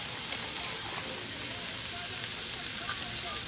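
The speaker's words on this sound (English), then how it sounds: "bag of frozen peas, and let's go ahead and add that" Frozen peas tipped from a bag into a pot for tarragon pea soup, giving a steady hissing, rattling wash that holds at a moderate level for the whole stretch.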